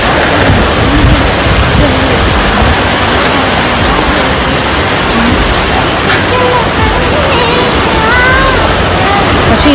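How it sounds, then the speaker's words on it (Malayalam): Heavy rain driven by strong wind, a loud, continuous wash of rain noise close to the mic with gusty buffeting and no break for the whole stretch. "പക്ഷെ നല്ല മഴയാണ്, നല്ല കാറ്റും."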